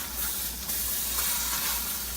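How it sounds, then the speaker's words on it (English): Steady, bright sizzling of food frying in a hot pan, a constant hiss without speech. "I'm gonna put it in our pan. The pan is on, so it's sizzling."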